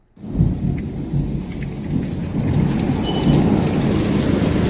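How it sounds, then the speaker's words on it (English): A sudden thunderstorm near the ocean, with heavy rain pouring and hammering on surfaces and thunder rumbling, a dense loud roar that begins abruptly and builds steadily with no voices. "This storm just came out of nowhere."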